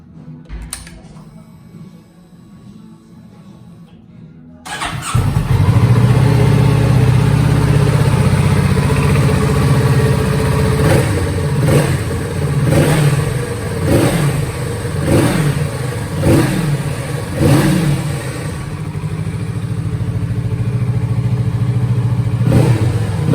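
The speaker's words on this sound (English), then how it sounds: "you can actually hear the bike running from the comfort of your armchair" A Kawasaki Z650RS motorcycle engine cranks and fires up, then idles roughly with repeated sharp throttle revs rising and falling, loud and close, with much of the noise coming from the airbox.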